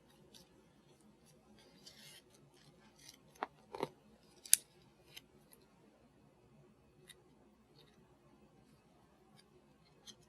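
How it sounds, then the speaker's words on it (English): Scissors trimming one edge of a PolyMem foam wound dressing for a finger joint sprain, giving a few faint, quick snips that stand out briefly against a quiet background. "Here we'll just trim down one edge."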